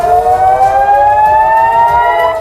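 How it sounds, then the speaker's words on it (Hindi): Civil defense warning siren wailing in northern Israel near the Lebanese border, a loud, steady rising tone sounding alone and close. "सायरन बजने लगे थे।"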